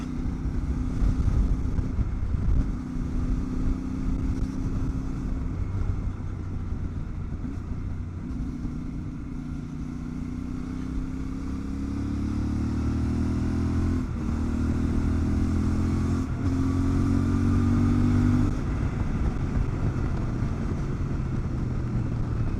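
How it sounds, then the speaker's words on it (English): A CF Moto 450MT adventure motorcycle ridden along, its engine droning steadily with gear changes and rising revs, wind noise mixed in, heard continuously from the rider's position without talk. "It's an adventure bike."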